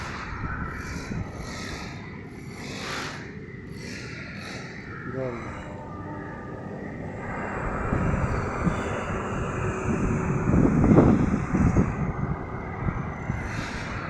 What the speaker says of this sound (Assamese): এতিয়া ট্ৰেইনখন চালু হ'ব।